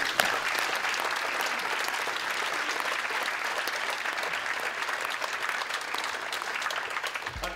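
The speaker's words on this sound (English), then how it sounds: "Can we please give them a round of applause?" A conference audience gives sustained, even applause for the morning's speakers and panel, a continuous wash of many hands clapping at moderate distance with no voices over it.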